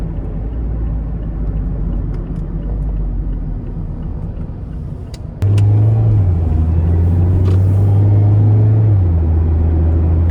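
Cabin noise inside a 2019 Mazda MX-5 Miata Sport soft top roadster while driving: a steady low road and wind rumble, then a louder engine drone that holds and shifts pitch as the car pulls.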